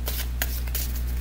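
Cards from an Osho tarot deck are shuffled and drawn, a brief soft riffling and sliding with a few papery swishes over a steady low hum.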